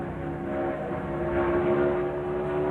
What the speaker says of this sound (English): You can almost just hear him having to play with the throttle.